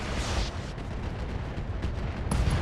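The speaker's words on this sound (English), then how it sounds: "that's an AC-10 ammo explosion and a dead Enemy Centurion" An AC-10 ammunition explosion destroys an enemy Centurion mech in the BattleTech video game RogueTech, heard as a loud, sustained booming blast with rumbling low end and a sharp crack near the end.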